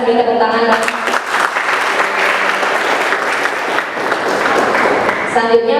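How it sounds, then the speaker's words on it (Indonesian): Seminar audience in Jakarta claps continuously in a dense, steady burst, with a voice heard faintly at the start and end of the applause. "Beri tepuk tangan."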